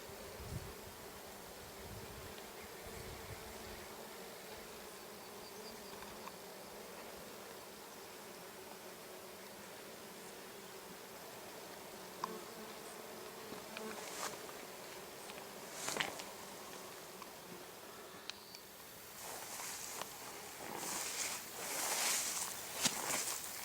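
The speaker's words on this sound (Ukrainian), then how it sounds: "Земляна осмія втратила обережність, збираючи нектар." An earth mason bee (Osmia) collecting nectar on a thistle in the steppe gives a soft continuous buzzing hum close by, with faint rustles and a few louder brushing sounds toward the end and no speech.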